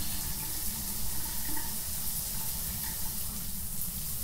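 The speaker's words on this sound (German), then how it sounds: "jetzt macht er die Dusche an" A shower runs in the video game Phasmophobia, a steady close hiss of gushing water that continues without pause for several seconds.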